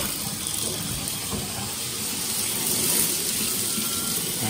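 A faulty shower head sprays water steadily, spitting out its sides and back, a continuous broadband hiss with no voices.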